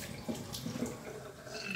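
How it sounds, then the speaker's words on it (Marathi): Water runs steadily over soaked moth beans rinsed in a sieve, a continuous close splashing and trickling flow for the whole stretch with no voices. "छान अशी हिला धुवून मोड येण्यासाठी ठेवली."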